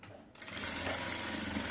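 Sewing machine stitching a designer sleeve, starting after a brief quiet moment and then running in a fast, steady, close mechanical whir of needle strokes with no talking.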